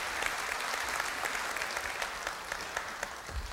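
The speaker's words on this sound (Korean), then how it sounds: "큰 박수로 마동훈 미래전략실장을 환영해 주십시오" Audience at Korea University's 110th anniversary ceremony applauding to welcome a speaker: dense, steady clapping from a large crowd in a hall, sustained evenly throughout.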